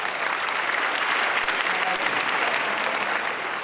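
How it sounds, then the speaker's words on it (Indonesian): An audience of cadets at a ceremony claps together in a dense, steady burst of applause for a few seconds, loud and close, with no voices over it. "Oke, kita berikan aplaus."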